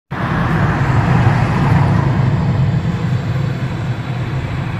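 A misbehaving vehicle engine runs close by, a loud continuous low rumble and drone that starts abruptly and holds steady with no talking.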